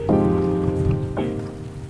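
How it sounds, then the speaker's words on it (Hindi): Heavy rain pouring steadily on a surface, a dense continuous wash of drops heard close and loud, with faint tonal background beneath. "बहुत तेज़ बारिश हो रही है"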